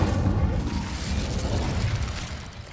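The Incendio fire spell cast in Hogwarts Legacy gives a loud, sudden whooshing burst of flame with a deep rumbling roar that fades away over a few seconds.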